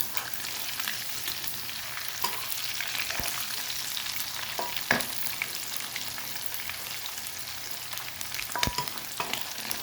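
Pork fries in a pan with fresh chili and garlic, a continuous close sizzle with occasional sharp pops and spatula taps spread across about ten seconds, no voices.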